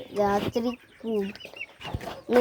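A hen clucks nearby in short, throaty bursts, three or four separate calls with brief pauses between them, loud and clear against a quiet yard.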